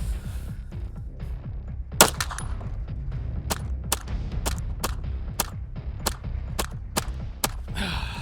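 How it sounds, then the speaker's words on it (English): Ten sharp pistol shots from a Staccato XC 2011 with its stock grip, fired at a steady, unhurried pace over a constant low rumble, each report crisp and close. "We're gonna put 10 rounds on with the stock grip"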